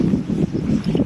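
Cold wind gusts batter the microphone on the Saint-Jacques-de-Compostelle pilgrimage route, making a loud, low, continuous rumbling buffet that swells and dips.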